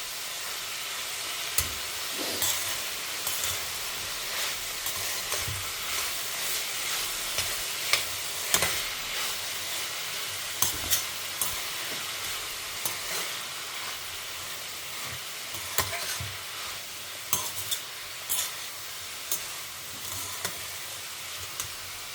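Grated coconut and vegetables being stir-fried in a pan for a Tamil home lunch, with steady sizzling, frying hiss and repeated scraping stirs of a spoon against the pan, close and without talk.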